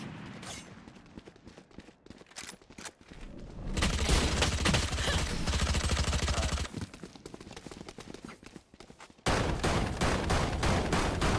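Rapid bursts of gunfire from the Valorant video game, with dense volleys that swell loud in the middle stretch and return sharply near the end, close and continuous.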